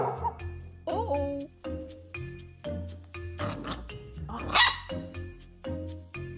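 A dog barks in a series of short, sharp woofs repeated at an uneven rhythm, close and fairly loud, with brief higher yelps mixed in.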